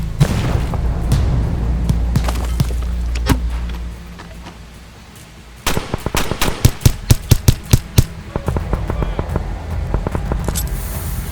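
Gunfire in an ambush training scenario: bursts of sharp, rapid shots crack out in a tight rhythmic string near the middle, with scattered single reports around them over a loud, rumbling background.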